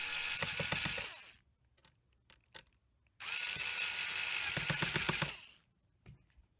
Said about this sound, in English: Then we tighten 2 screws on the top side, which we loosened earlier.